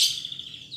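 A white-rumped shama (murai batu) gives one brief, clear, high whistled chirp that slides slightly downward, fairly close and alone.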